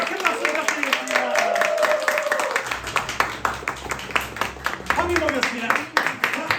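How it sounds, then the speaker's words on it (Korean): Applause from a small audience after an informal performance, scattered claps building into steady clapping, then thinning and rising again, with voices and chatter underneath. "박민범 박사 큰 박수 부탁드리겠습니다"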